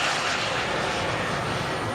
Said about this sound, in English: It flies with two JetCat P130 turbine engines